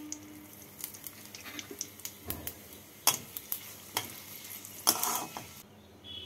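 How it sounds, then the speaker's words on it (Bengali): Three dried red chillies, two bay leaves and half a teaspoon of cumin tempering in hot mustard oil, giving a steady crackling sizzle with scattered sharp pops and spoon scrapes against the pan. "ফোড়নে দিচ্ছি 3টে শুকনো লঙ্কা, 2টো তেজপাতা, হাফ টিস্পুন জিরে।"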